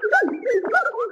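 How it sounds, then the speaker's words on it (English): Reversed sine wave speech: warbling, whistle-like tones gliding up and down in short syllable-like bursts, sounding eerie and unintelligible, close and clear. "let's say a sine wave speech, which sounds like this"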